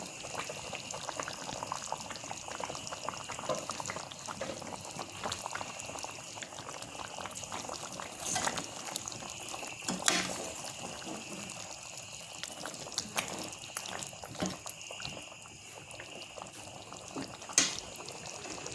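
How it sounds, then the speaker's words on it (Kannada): Chicken masala bubbles away under a closed lid, a continuous soft simmering hiss with scattered pops and little splutters, close and steady with no talking. "ಎಲ್ಲವನ್ನು ನೀಟಾಗಿ ಮಿಕ್ಸ್ ಮಾಡಿ ಒಂದು ಲಿಡ್ ಕ್ಲೋಸ್ ಮಾಡಿ ಬೇಯಕ್ಕೆ ಇಡ್ತೇನೆ"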